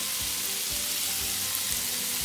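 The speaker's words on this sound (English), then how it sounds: "Now we're gonna saute this until it becomes translucent" Vegetables sautéing in a pan with poultry seasoning and Maggi seasoning or salt, a steady soft sizzle and crackle throughout with faint stirring.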